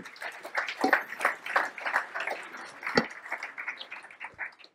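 An audience at a business breakfast event applauds the speakers, scattered, moderately quiet clapping with irregular individual hand claps rather than a dense roar.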